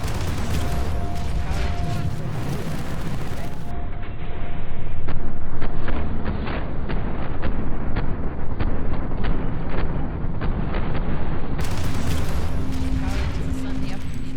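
Video game combat with a rumbling C4 detonation and scattered incoming gunfire, heard as a dense mechanical roar with a louder swell partway through and faint sharp cracks throughout, no speech over it.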